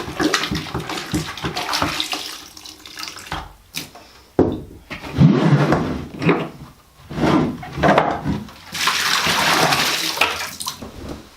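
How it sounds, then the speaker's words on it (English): Cloth diapers being hand-rinsed and wrung in a tub of water, with repeated sloshing, splashing and trickling as the fabric is pulled and squeezed, close and uneven in bursts, with no talk. "So right now I'm just gonna be rinsing again like I did the last time, just like pulling each side and rinsing"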